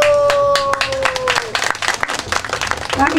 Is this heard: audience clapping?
yes